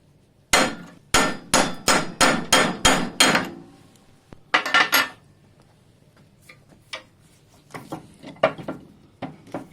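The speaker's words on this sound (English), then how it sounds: "And then breaking it with a chisel." Sharp metallic hammer strikes on a chisel breaking a metal collar off a Triumph TR7 rear axle shaft, a quick run of about seven, then a pause, a short cluster of blows, and scattered lighter taps and clinks.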